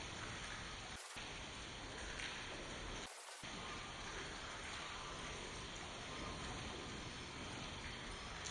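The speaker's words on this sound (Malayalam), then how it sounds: "നല്ല മഴയാണ്" Heavy rain falls on a village road running past a temple, a dense, steady hiss of downpour that continues throughout, broken only by two brief silent gaps, with no voices.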